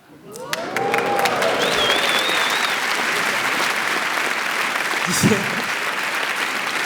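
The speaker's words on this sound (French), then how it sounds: "Vous avez fini par applaudir parce qu'il y en avait d'autres qui applaudissaient" A comedy show audience in Montreux breaks into applause that swells from quiet to a full, sustained crowd clapping, with a few whistles and a brief voice near the end.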